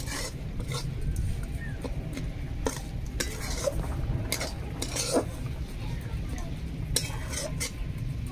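A kadai set on a home stove while making the lobongo lotika sweet, with clinks and clatters of metal cookware and utensils scattered throughout over a steady low background hum.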